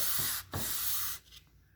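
A SandBag Kinetic Sander scrapes back and forth against a surface in steady rasping strokes, broken by two short pauses.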